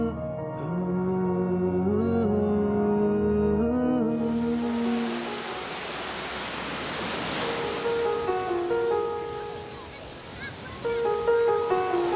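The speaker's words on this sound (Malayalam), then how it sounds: "തിരയടങ്ങാത്ത കടൽ" Ocean surf rushes in a broad, hissing wash, with melodic music playing before and after it.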